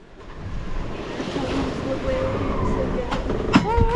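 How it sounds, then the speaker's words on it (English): Steady ocean waves and wind rush behind a 28ft sailboat running dead downwind as the swell builds higher, a continuous loud wash with a few sharper splashes near the end and no clear speech. "the waves and wind started coming directly behind us, so we were dead downwind, and the waves built higher and higher"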